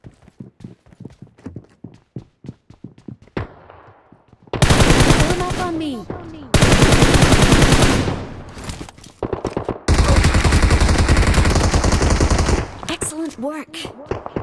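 Automatic gunfire in the BGMI mobile battle royale game, played on an iQOO Z5 5G phone at 90 fps: scattered single shots and light ticks give way to several long, loud sustained bursts of rapid fire.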